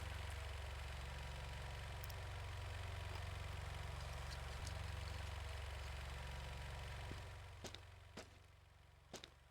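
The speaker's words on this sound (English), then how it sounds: "I don't think that engine's knocking." A car engine idles in the Mon Bazou game with a steady, low mechanical hum. Toward the end the hum drops and a few sharp clicks follow.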